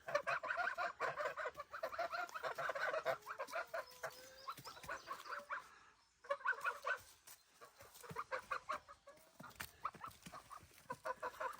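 Goslings on a farm give off a busy run of close peeping and honking calls, with short pauses between bursts, no voices.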